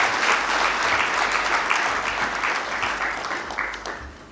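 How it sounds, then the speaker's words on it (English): An audience at a formal Nairobi ceremony breaks into a round of applause, dense clapping that holds steady and then gradually tapers off. "A round of applause."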